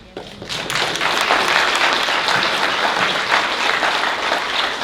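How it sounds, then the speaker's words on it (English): An audience claps at a Tucson Ward One candidates forum hosted by a barrio neighborhood coalition, applause swelling quickly and holding steady and fairly loud for several seconds. "You guys are going to clap whether you want to."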